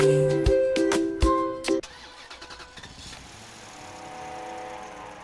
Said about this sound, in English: I am an owner of an old Eastbourne bus which dates from 1963. It's an AEC Regent 5